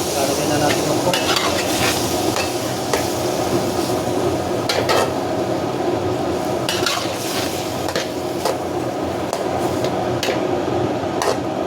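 Pork and tomato fry in a pan for monggo with pork, a constant dense sizzle with repeated clinks and scrapes of a utensil stirring against the pan at irregular intervals.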